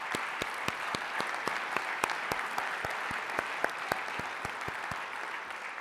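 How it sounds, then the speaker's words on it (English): Audience applause at Heidelberg University's Impact Day 2025 Ignition Night, a steady wash of many hands with a few sharper individual claps standing out, sustained at moderate level throughout. "a big applause"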